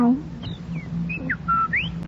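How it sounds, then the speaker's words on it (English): Bright whistled bird chirps in a forest, staged as a radio play sound effect: several short rising and falling tweets scattered over a steady low background, clear and fairly close. "Beautiful birds. And what happy little animals."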